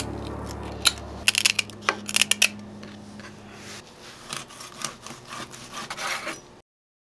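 A knife slices through homemade pickled mustard greens on a cutting board, giving crisp, scraping cuts in quick bursts with a low hum early on, close and fairly faint before falling silent.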